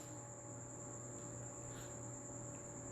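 A cricket chirps steadily and continuously at a low, even level, with no talking over it.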